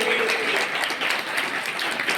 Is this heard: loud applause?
yes